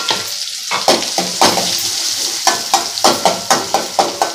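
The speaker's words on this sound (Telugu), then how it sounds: "ఇప్పుడు వేగుతుండగానే ఆనియన్స్ వేయాలి మీడియం సైజ్ ఆనియన్ తీసుకొని సన్న చాప్ చేసి వేయాలి" Chopped medium onions fry and sizzle in a pan for bottle gourd fry, with steady loud crackling and a rhythmic series of stirring scrapes toward the end, no voices.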